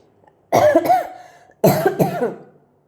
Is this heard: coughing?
yes